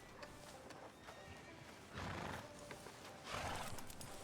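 A horse whinnies twice amid a soft rhythmic clip-clop of hooves, with faint background voices, in the video game Red Dead Redemption 2.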